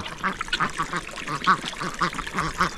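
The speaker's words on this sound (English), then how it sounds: "Oh no, the ducks found the pond. Oh, they're coming." Ducks quack at a newly built pond on a mountain farm, with repeated nasal calls in an uneven, overlapping rhythm, fairly close and moderately loud.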